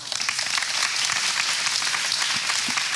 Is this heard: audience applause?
yes